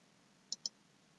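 Two quick, crisp computer mouse clicks in fast succession, a double click, close and clean against a quiet background with no talking.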